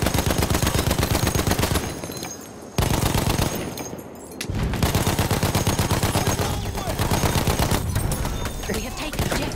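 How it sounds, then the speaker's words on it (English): Enemy machine gun fire in the video game Battlefield 1 sounds in loud rapid bursts, rattling almost continuously with two short pauses. "That's an enemy machine gun!"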